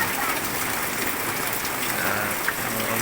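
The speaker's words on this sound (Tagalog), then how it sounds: "Ang lakas ng ulan." Heavy rain pours down in a dense, steady hiss that stays loud and unbroken throughout, with faint talk in the background.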